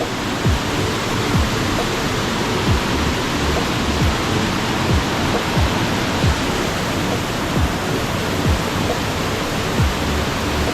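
Water plunging down the Thonippara waterfall makes a constant heavy roar, close and loud, an unbroken rushing hiss that holds steady throughout.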